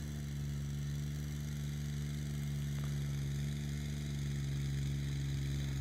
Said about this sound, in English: He's got that tiller buried right now, pulling about all the horsepower out of that little BX